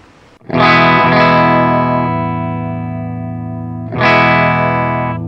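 Electric guitar played through a Bad Cat Cougar 50H amplifier with reverb at minimum: a loud distorted chord rings out and sustains, then a second strum lands near the end.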